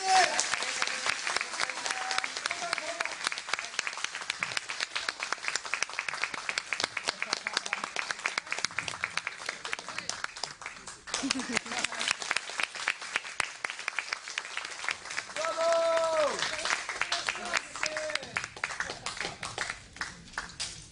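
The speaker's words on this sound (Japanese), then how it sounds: "温かい拍手、本当に拍手ありがとうございます。" An audience at a basic income event in Okinawa claps steadily to welcome a guest speaker from Switzerland, the applause running throughout with a voice speaking briefly over it partway through.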